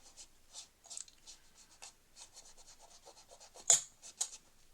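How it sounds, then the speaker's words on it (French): Glue being gently wiped off a paper lantern with soft, quiet rubbing and scratchy strokes in a close, irregular rhythm, and a few slightly sharper scrapes near the end. "Et délicatement, bien sûr, on essuie la colle"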